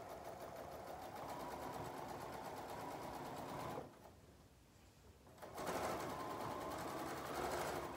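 Sewing machine stitching with a steady rapid mechanical hum and clatter, briefly slowing and quieting midway before running at full speed again, with no talking.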